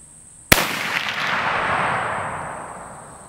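A Ruger rifle firing a 180 grain Remington jacketed soft point round gives one sharp, loud report, and a long rolling echo fades away over the next few seconds.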